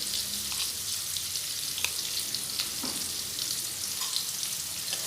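Potatoes sizzle steadily in hot oil with turmeric and salt, a continuous bright crackling hiss with a few soft stirring knocks, close and even throughout.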